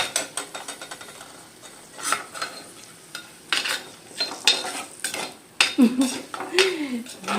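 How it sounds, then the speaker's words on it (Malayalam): Tomatoes go into a pan of wilted onions for an okra, tomato and prawn dish. A spoon clatters and scrapes against the pan in irregular bursts as the mix is stirred, with soft sizzling underneath. "ഉള്ളി വാടി വന്നിട്ടുണ്ട് ഇനിയിലേക്ക് തക്കാളി ഇട്ട് കൊടുക്കാം കേട്ടോ ഒന്ന് വരട്ടിയെടുക്കാം"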